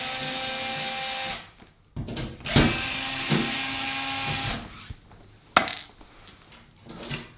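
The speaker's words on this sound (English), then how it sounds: "So I'm going to undo this panel here" Metallic clicks, scrapes and a few sharp knocks from a panel being unscrewed and worked loose on a Zanussi ZOD580 oven, close and fairly loud, with bursts of handling noise and short quiet gaps between them.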